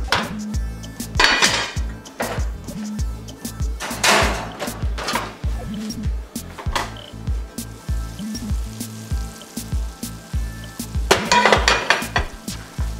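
A small piece of pork skin sizzling in a pot as its fat renders for carnitas, a steady hiss under repeated clanks and scrapes of utensils against the pot.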